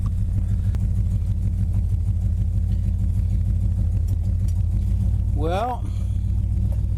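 A 1949 Shoebox car fitted with electric power steering, its steering wheel not fully bolted on, rolls along on its first road test with a steady, close, droning engine rumble throughout, and a brief voice breaks in near the end.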